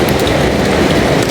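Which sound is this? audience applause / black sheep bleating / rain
rain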